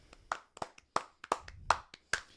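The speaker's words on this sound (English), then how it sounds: "Clap." Hand clapping, a handful of crisp, separate claps close to the microphone in an uneven rhythm, each a sharp dry smack with silence between.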